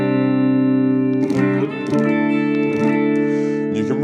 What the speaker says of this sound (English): let's have a look at the bridge pickup.